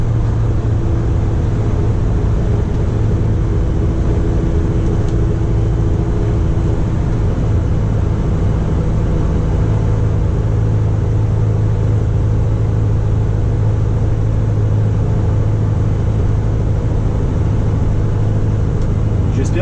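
An Otokar Navigo U bus engine drones while driving, a continuous low rumbling hum that stays steady and fairly loud throughout.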